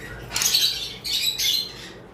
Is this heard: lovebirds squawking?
yes